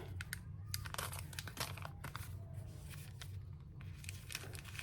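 A cut-off paper bag crinkles and rustles steadily as it is handled up close, with a dense run of crisp crackles and small tearing sounds all the way through.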